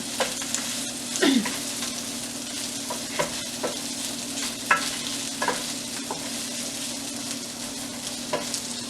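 Garlic, onion and ginger being stirred in a frying pan, with a soft steady sizzle under scattered scrapes and clinks of the utensil against the pan, fairly close and alone.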